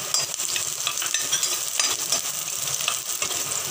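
Finely chopped garlic and green chilies fry over medium-high heat in a pan for paneer 65, giving a steady, close crackling sizzle with small pops and stirring clinks throughout.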